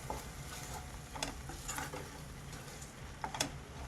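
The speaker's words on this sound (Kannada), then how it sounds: "ಈಗ ಇದಕ್ಕೆ ನಾನೇನು ರುಬ್ಕೊಂಡಿದ್ದೀನಲ್ಲ ಆ ಪೇಸ್ಟನ್ನು ಹಾಕೋತಾ ಇದ್ದೀನಿ. ಇದು ಮಸಾಲೆ ಸ್ವಲ್ಪ ಚೆನ್ನಾಗಿ ಫ್ರೈ ಆಗಬೇಕು." Ground masala paste for egg masala fries in a pan, giving a quiet steady sizzle with soft scraping and tapping as a spoon stirs it, no voices.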